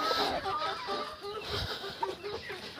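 Hens clucking in a backyard poultry yard during feeding time, soft overlapping clucks and fowl chatter continuing throughout, with scattered handling noise close by.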